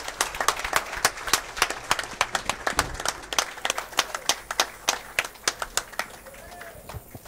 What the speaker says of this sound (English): How about a round of applause for these two players